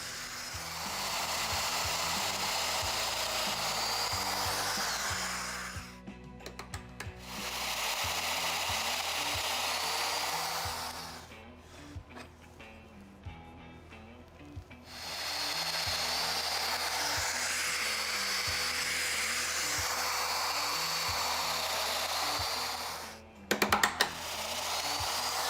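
Festool power tool cutting mortises in wood, a loud, steady high whine that runs in long bursts, stops, and starts again, with quiet handling sounds in the gaps.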